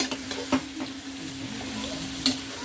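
Spicy potato vada filling with coriander stirred in a pan, a spoon scraping in slow strokes with a couple of sharper clinks over a low steady sizzle.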